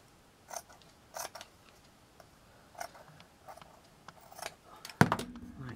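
Scissors snip craft material for a mixed-media strawberry boot house model, with a few quiet, close, separate cuts and a louder crunch near the end.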